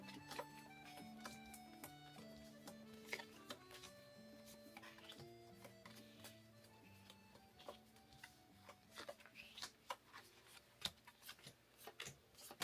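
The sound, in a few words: shuffling Tamagotchi playdate cards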